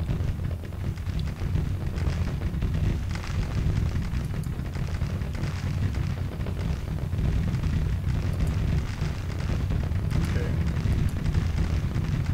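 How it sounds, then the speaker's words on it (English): Artillery fire in a Civil War strategy game, a steady dense rumble of overlapping cannon booms filling the whole stretch at constant loudness, with some talk mixed in. "this artillery is all firing"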